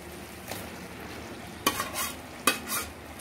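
Eggs stirred and frying in a pepper masala over low heat, a faint steady sizzle broken by two short bursts of spatula scraping against the pan, with no voices.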